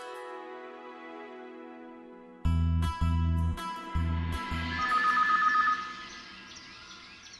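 A telephone rings in a dubbed drama, with a sustained tone giving way to several loud repeated ring bursts, followed by a brighter trilling ring.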